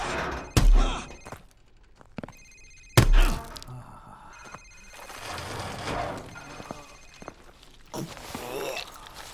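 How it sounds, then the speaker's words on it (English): In the Modern Warfare Remastered video game, a cell phone rings amid loud thuds, footsteps and scene noise, partly under talk. "Sir, it's his cell phone."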